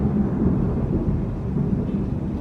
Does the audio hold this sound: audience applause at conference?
no